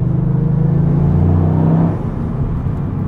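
Toyota GR Yaris engine held at around 3,000 rpm in third gear, a loud, steady droning rumble for about two seconds that then eases off as the revs drop, recorded from inside the car.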